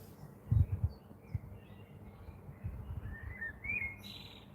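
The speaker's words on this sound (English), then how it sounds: "that's why I also appreciate the just being outside here and listening to the birds" Birds chirp in the evening outdoors with a few faint, thin high calls and short whistles in the distance, while low thumps and rustles sound nearby in a quiet setting.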